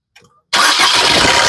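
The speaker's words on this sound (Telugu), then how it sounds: "సింగిల్ సెల్ఫ్ లో కార్ స్టార్ట్ అవుతుంది ఎటువంటి స్టార్టింగ్ ట్రబుల్ అయితే లేదు" Maruti Suzuki Ciaz diesel car engine cranking and catching in one start after a short click, then settling into a loud, steady idle close by.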